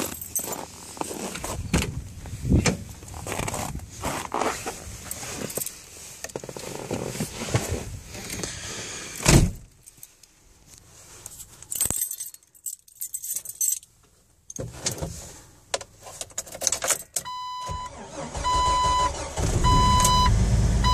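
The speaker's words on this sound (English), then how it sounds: "Let's see how quick it fires up." A 2004 Jeep Wrangler cold-started at -19 °C after sitting two days: keys jangle and handling noises first, then a chime rings and the engine cranks and catches into a steady idle that runs to the end.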